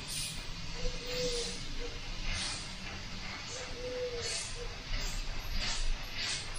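A Badger airbrush with a 0.2 setup sprays paint in soft, airy hissing bursts, close and moderately loud, recurring at regular intervals across the clip.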